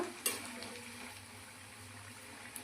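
Okra bajji fritters frying in hot oil, a quiet steady sizzle close by with a couple of faint clinks of a utensil, no talk.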